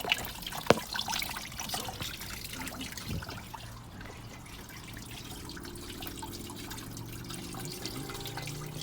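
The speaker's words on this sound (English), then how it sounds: "So just let it leak out until it stops." Coolant drains from the radiator of a 2008 Ford Territory in a faint, steady trickle with occasional drips, quiet and close.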